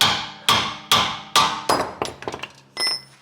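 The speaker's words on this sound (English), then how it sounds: "let's get the hammer and the chisel. And we'll hit it from this direction behind here" Hammer driving a chisel against a VW Golf mk4 rear wheel bearing: four loud, evenly spaced metallic blows with ringing decay, then a faster flurry of lighter taps and a final clink, close and without talk.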